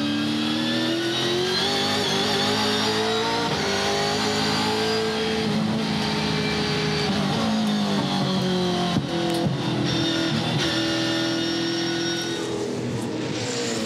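V8 Supercars at the 2013 Perth round scream past on track, a loud sustained high-revving engine wail with shifting pitch as cars pass close by, no talk over it.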